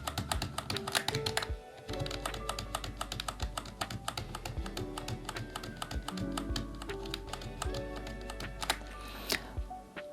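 Computer keyboard keys clatter in quick irregular bursts and single taps while Photoshop shortcuts are used, close and steady for the whole stretch with no voice over them.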